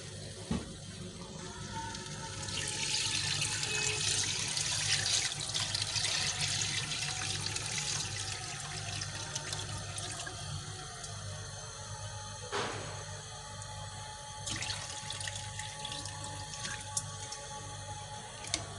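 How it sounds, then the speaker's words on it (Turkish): Water poured into a pot of garlicky sheep's head soup, a continuous splashing pour and trickle with a few drips and clinks, heard up close in a kitchen. "Herhalde su koyacaksın üstüne. Evet, kendi suyunu koyacağız."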